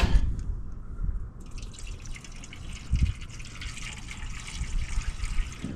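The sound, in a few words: water filling 1978 Dodge D300 truck radiator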